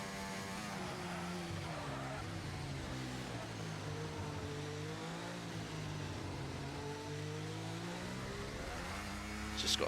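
An F1 race car engine in the F1 24 video game at Spa, revving high and sweeping up and down through gears in a steady, continuous loud whine with no talk over it.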